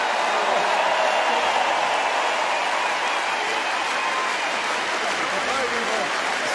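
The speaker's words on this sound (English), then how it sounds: "And Landin Senior gets an even bigger cheer" An arena crowd at the 2019 World Men's Handball Championship final between Norway and Denmark keeps up dense, continuous applause and cheering for a player, with a commentator's voice over it.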